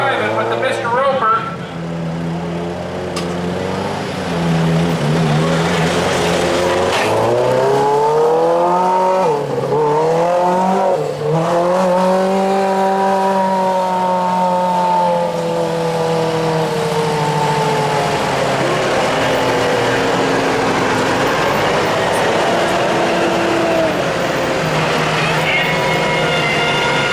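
A modified lawn tractor in a 1200 lb class roars through a tractor pull, its engine pitch climbing and sagging as the load builds, loud and continuous for the whole pass while an announcer talks over it.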